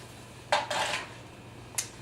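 A loaf of keto almond meal bread is lifted off a metal cooling rack in a quiet kitchen, giving two quick light clinks close by and then a faint tap.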